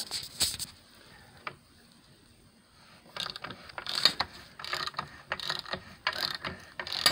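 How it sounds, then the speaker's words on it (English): A hand or air ratchet clicks as it turns the scissor jack on a transmission jack, giving quiet, scattered ratcheting clicks that grow into a denser, steadier run of clicks in the second half. "I got it set up for ratchet manual or for air ratchet, whichever you prefer"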